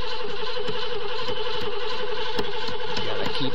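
Carbureted old Chevy Suburban with 137,000 miles, its engine cranking and then running at a steady, loud, close idle with a throbbing mid-range drone and occasional clicks.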